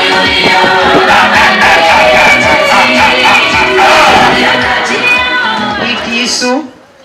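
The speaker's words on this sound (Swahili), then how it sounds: "Wamepita wachilia hata shangwe kidogo na vigelegele." Wedding crowd cheering with high trilling ululation, loud and continuous throughout, a dense festive roar that drops away abruptly near the end.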